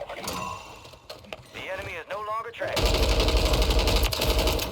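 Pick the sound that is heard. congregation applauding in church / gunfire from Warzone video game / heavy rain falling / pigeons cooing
gunfire from Warzone video game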